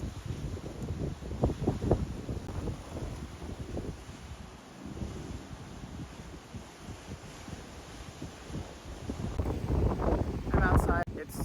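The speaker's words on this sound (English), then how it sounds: "I'm outside. It's just so windy." Strong wind outdoors before rain, buffeting the microphone with a continuous low rumble and rustle, rising in gusts toward the end, while a person talks over it.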